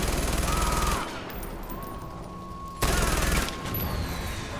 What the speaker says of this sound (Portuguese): Ah, tá lançando morteiro,